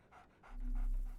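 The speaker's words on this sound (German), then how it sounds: "So, Barnes has a dog now." A dog panting in Sherlock Holmes: The Awakened, three quick breathy bursts in a steady rhythm, close and soft, with a faint low hum underneath growing louder toward the end.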